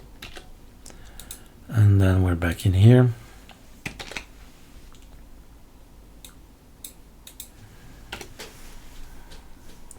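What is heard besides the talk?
typing on a computer keyboard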